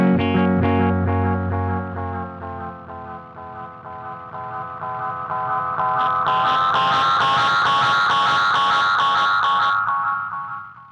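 Loud electric guitar echo from an Echo Dream 2 delay pedal builds into runaway oscillation, repeating tones stacking and swelling into a dense, howling drone before cutting off.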